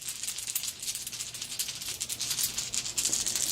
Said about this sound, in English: And then we are rolling dice once again.